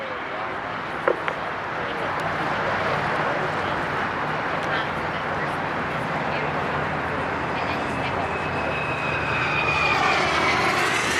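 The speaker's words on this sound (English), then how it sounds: "enjoy a left to right pass of this McDonnell Douglas Boeing FA-18 Hornet in a vertical roll now as he comes over the top" Turbine roar of a radio-controlled McDonnell Douglas Boeing F/A-18 Hornet model jet at an RC jet event, sustained and fairly loud as it performs a pass and vertical roll, with a public-address voice talking over it.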